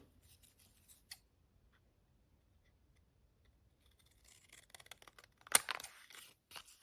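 Scissors cutting paper card for a pop-up card, faint sparse snips building into a closer cluster of crisp cuts and rustles near the end, otherwise quiet.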